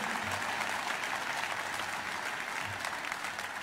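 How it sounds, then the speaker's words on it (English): Steady, dense applause from a large audience fills the hall during a political speech, sustained throughout at moderate loudness with no break. "Well, you can clap."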